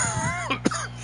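A sports broadcast commentator coughs and clears his throat during an NFL game between Kansas City and Cleveland, a couple of short rough bursts close to the microphone over a steady low hum.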